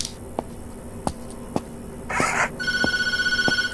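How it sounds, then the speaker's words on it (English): A telephone ringing in the Tattletail horror video game: a bright, trilling electronic bell that starts partway through, rapid pulsed rings after a few soft knocks and a short burst of noise. "I ain't answering no phone."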